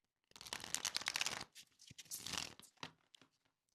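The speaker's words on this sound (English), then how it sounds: "Sorry if the shuffling is loud." Tarot cards are shuffled close by in two rapid, papery riffling bursts with a brief pause between, followed by a few lighter flicks.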